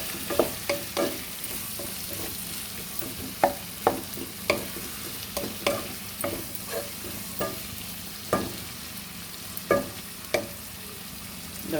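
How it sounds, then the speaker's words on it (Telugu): Chopped onions with salt frying in a pan, giving a steady soft sizzle broken by repeated sharp clicks and scrapes of stirring, close up with no talk. "చూడండి, ఆనియన్లు వేగుతున్నాయి ఇట్లా. చూడండి, ఆనియన్ ఇలా వేగుతుంది."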